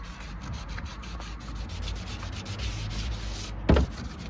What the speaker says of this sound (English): What are you sanding with?